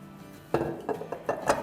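Chicken being stirred into a yogurt and oil marinade in a bowl, a few distinct clinks and scrapes of a utensil against the dish after a quiet start, close and fairly soft.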